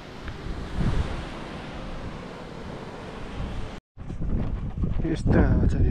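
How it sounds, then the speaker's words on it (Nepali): Strong wind on a mountain trek route near a landslide area, a loud blustery roar buffeting the microphone, briefly cut off and then returning in rougher gusts. "यस्तो हावा चलिरहेछ कि"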